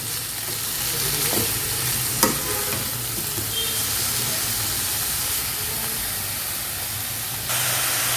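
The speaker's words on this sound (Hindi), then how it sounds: "अब इसको डाल के हम करीब 5 मिनट के लिए भुनेंगे। इसकी हम भुनाई करेंगे।" Chopped bathua leaves fry in a pan for a kadhi, a steady close sizzle and hiss with scraping stirs and one sharp clink against the pan.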